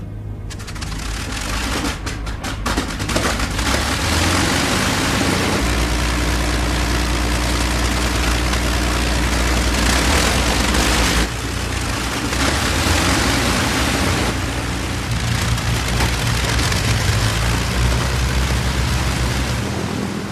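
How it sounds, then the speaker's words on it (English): Four Merlin engines of a Lancaster bomber idle together in a loud, steady, deep drone that holds for the whole stretch, with rough throbbing and mechanical clatter layered through it. "You had to synchronise your engines, but once you had them synchronised, they just purred."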